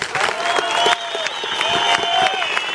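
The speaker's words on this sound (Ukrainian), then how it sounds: "Всі хлопці, наші друзі, всі стоять, аплодують вас." Audience applauding a singer after a folk song, a steady wash of hand clapping with some crowd noise and a sustained tonal line running through it, fairly close and loud.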